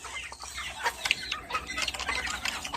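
Chickens on a small backyard poultry farm in General Santos cluck and squawk in a dense, continuous chatter of overlapping calls while being fed, with close, busy bird voices throughout and no talking.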